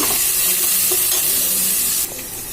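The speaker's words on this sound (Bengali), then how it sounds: "টমেটো কুচিটা দেওয়ার পর ভালো করে নেড়ে নিতে হবে" Chopped tomatoes sizzle loudly in hot oil in a pan while being stirred for a pumpkin, potato and chickpea vegetarian curry, a steady close hiss with occasional scraping of the spatula.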